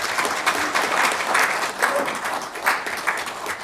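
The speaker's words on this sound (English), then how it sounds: "a huge round of applause for Wolves Nation" A crowd at a city council meeting applauds steadily, dense clapping at a lively, sustained level from start to finish.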